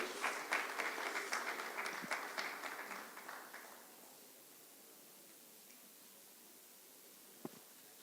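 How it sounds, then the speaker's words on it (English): Brief audience applause at an innovation series awards event, a scattering of claps that thins out and fades within a few seconds, leaving quiet room noise and one last sharp clap near the end. "Please, can we have a round of applause for him?"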